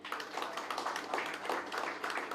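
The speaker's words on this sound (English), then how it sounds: "A huge round of applause." An audience at a panel event on AI, IoT and wearables gives a round of applause, heard as a fairly faint, continuous patter of many hands clapping.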